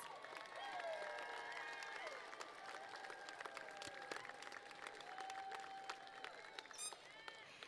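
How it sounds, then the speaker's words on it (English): A commencement crowd applauds honor scholars in blue and orange stoles, a broad, steady wash of clapping from a large audience at a distance, with whistles and voices mixed in. "Let's give them all a round of applause."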